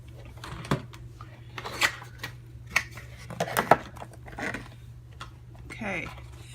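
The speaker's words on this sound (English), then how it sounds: "let's open it up with some scissors" Several short, crisp snips and rustles of scissors cutting through packaging, spaced irregularly over a low steady hum.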